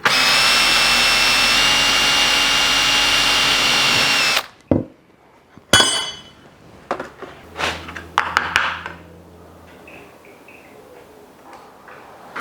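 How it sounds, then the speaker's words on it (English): A power drill whines steadily and loudly as it bores a rivet-rove hole through copper sheet via a guiding hole, then stops abruptly, followed by scattered clicks and light metal handling sounds. "now you could drill the hole for the rove through your guiding hole"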